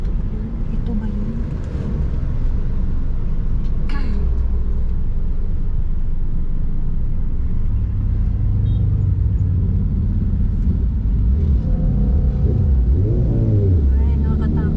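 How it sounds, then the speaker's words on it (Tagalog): Loud motorcycle engine revving nearby on a road trip near Antipolo, a steady low rumble with rising and falling rev sweeps near the end, while people talk over it. "Ang boses ng motor."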